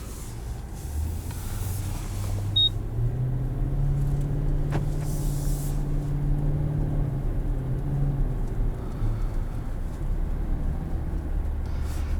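Cabin of a 2023 Infiniti QX80 full-size luxury SUV with a seven-speed automatic on the move: a steady low road rumble and engine drone fill the interior, with a brief rise in tone partway through and no talking.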